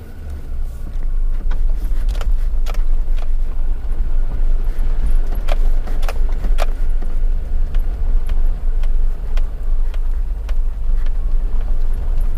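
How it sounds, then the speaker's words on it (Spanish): A Suzuki Jimny climbs a steep cobbled, gravel-strewn hill in four-wheel drive, its engine droning steadily and close throughout, with scattered sharp clicks and crunches from stones under the tyres. "pero por probar vamos a poner la tracción a las 4 ruedas"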